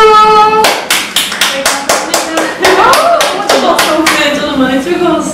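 Several people clap in a burst of quick applause, loud and close, with a few voices chiming in near the end.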